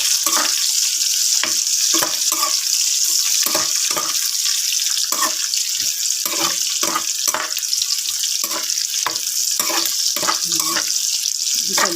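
Fried pork belly sizzles loudly in a pan, a dense steady hiss broken by repeated scraping and clattering strokes of stirring, close up and without talk.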